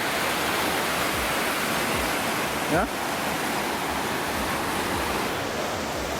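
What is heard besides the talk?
river rapids flowing at Bad Kreuznach slalom course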